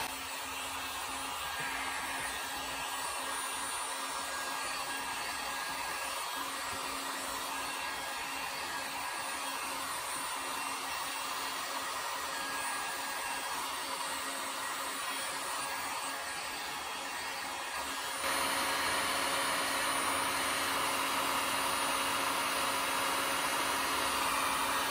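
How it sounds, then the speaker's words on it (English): Heat gun blowing hot air onto PVC pipe to soften it for forming: a steady, even whooshing hiss that runs throughout and steps up slightly in level near the end, with no talking. "Just a heat gun."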